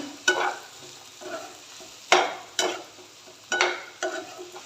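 A spoon stirs chana masala made with black chickpeas, potato and spices in a pan: close, crisp scraping strokes come in irregular bursts about every second over a faint sizzle, with no voices.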